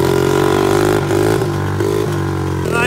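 A pit bike engine with a broken muffler revs loud and raw close by, one continuous throaty drone with slight pitch dips and rises, no talking over it.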